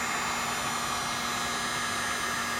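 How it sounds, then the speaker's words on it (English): A heat gun blows hot air during a ventilation cable repair on a 1969 Camaro with Astro Ventilation, producing a steady, unbroken blower roar that runs alone throughout with no talking. "This isn't really a good heat gun"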